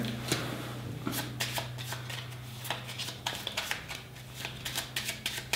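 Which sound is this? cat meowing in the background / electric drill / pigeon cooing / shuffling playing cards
shuffling playing cards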